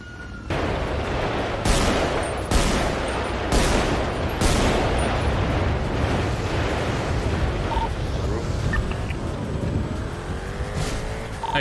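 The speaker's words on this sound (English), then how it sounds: "They're shooting me." Bursts of gunfire during a shootout in GTA V on the NoPixel roleplay server, with several sharp volleys in the first half over a constant engine-like rumble, then a lingering roar with faint tonal sounds.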